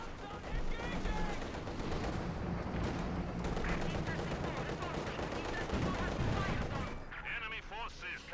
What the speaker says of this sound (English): MG-34 there for Ashablois, another machine gun to help deal with